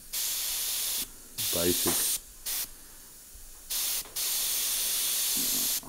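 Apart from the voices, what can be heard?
airbrush spraying paint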